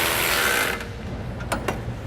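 A ratchet wrench snugging down grille guard bolts on a 2003 Ford Explorer, a brief burst of close metallic clicking followed by a couple of sharper clacks, loud and without speech.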